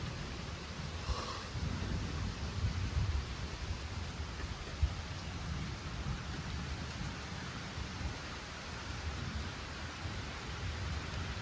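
Steady rain falling outdoors during a thunderstorm, a continuous hiss of moderate loudness with a faint low rumble early on and no voices.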